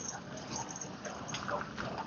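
Agitated dog outdoors during a walk with a husky, where a loose dog charged, giving yips and whimpers over steady wind-like rushing noise with broad, continuous background roar.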